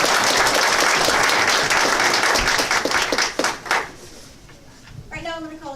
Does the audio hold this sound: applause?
yes